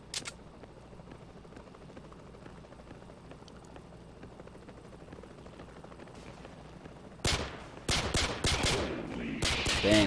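Pistol gunfire in a video game, a single sharp shot at the start followed later by a cluster of rapid loud shots near the end over a steady background rumble of helicopter support.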